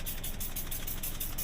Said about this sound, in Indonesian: sekarang mesin nyala nih